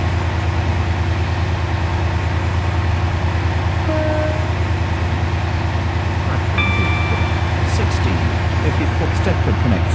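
A Class 68 train running in the Roblox game SCR (Stepford County Railway), a loud, steady engine drone with brief tonal squeals and beeps, and a voice talking over it.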